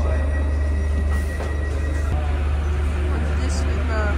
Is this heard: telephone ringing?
no